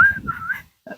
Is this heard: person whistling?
yes